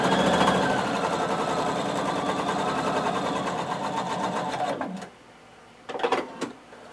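A sewing machine runs a long basting stitch to close a blazer flap, its needle chattering in a steady fast rhythm for about five seconds before stopping, then a short second burst of stitching follows, close up with no talk.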